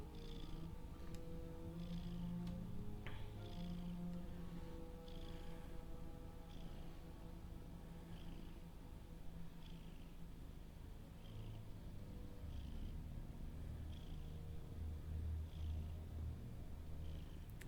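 A video game cat purrs softly on the Isle of the Flowers, a quiet, continuous low rumble with faint repeated chiming tones and other soft game sounds around it.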